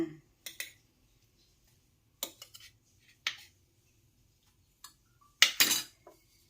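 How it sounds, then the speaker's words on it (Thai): Chili, shallot and garlic pounded in a mortar with a pestle, sparse sharp knocks heard close in a quiet room, some single and some in short quick bursts. "โขลกพริกหอมกระเทียมก่อนค่ะ"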